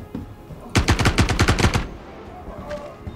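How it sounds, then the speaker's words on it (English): Automatic gunfire in the video game Star Citizen rings out as a rapid burst of about ten loud shots lasting roughly a second, with quieter game sounds before and after. "I hear them shooting."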